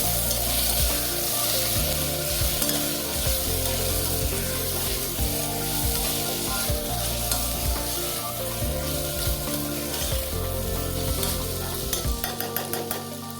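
A pan sizzles steadily as chilies and ginger fry, with a spoon scraping and stirring through it in irregular strokes, close and continuous.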